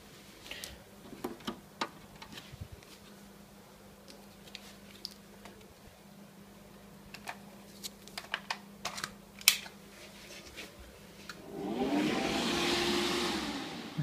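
An Avalon 60GH mini bitcoin mining rig running close by, giving faint irregular ticks and clicks over a low hum before a steady fan-like whoosh rises near the end; nobody speaks.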